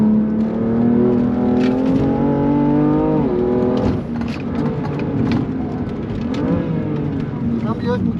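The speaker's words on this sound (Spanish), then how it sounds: "¡Qué motor, Dios mío, qué motor! O sea, voy a punta de acelerador." A BMW M3 engine screams at full throttle on a race circuit, rising in pitch through the revs, dipping briefly at a shift, then climbing again, loud and close, with someone talking excitedly over it.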